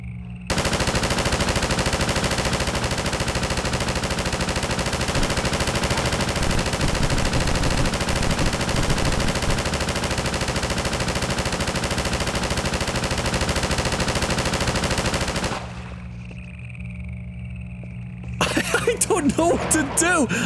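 A turret machine gun in Half-Life 2 rattles out a long, unbroken burst of rapid, loud fire lasting about fifteen seconds, then cuts off abruptly, leaving quieter game ambience and a brief clatter at the end.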